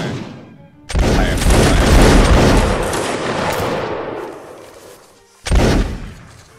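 Musket volley fire in a video game: a loud, crashing burst of many shots rolls on for several seconds, fades, then a second sharp volley breaks out near the end.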